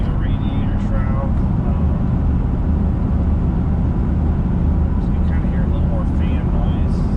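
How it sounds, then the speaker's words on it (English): A 1973 Corvette convertible with a 454 engine idles with its fan whirring, a steady loud low roar and rushing air held throughout, with a faint voice in the background. "Fan noise."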